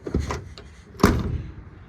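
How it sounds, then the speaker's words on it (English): A 1974 Dodge Power Wagon truck door slams shut twice, the first closing softer and the second a louder, solid thud, heard close with nothing else around it. "Doors shut really good."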